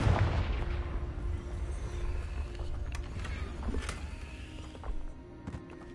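Fiery Confringo spell blasts in Hogwarts Legacy, an explosive burst at the start followed by scattered sharp impact cracks and a low rumbling background, with a couple of smaller pops near the end.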